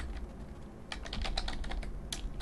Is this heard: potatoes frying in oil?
no